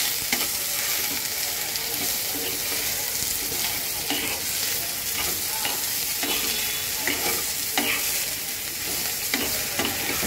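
Mustard paste curry with drumsticks cooked down in a pan on low heat, salt and turmeric added; a steady close sizzle with repeated scraping strokes of a spatula stirring throughout, no talk.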